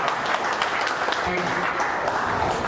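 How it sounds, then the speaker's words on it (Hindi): An audience at a dealer and distributor award function claps steadily and densely for the whole stretch, a continuous wash of applause with faint voices mixed beneath. "ये तालियां बजती रहनी चाहिए"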